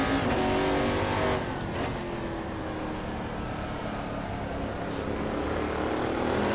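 Race car engine in a racing video game, a steady droning drive on an empty track, fairly quiet with a brief louder burst near the start and a faint high blip later.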